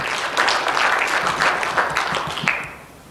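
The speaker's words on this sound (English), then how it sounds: "but can we give a round of applause?" Conference audience giving a round of applause, a dense burst of clapping from a sizable crowd that holds steady and then tapers off near the end.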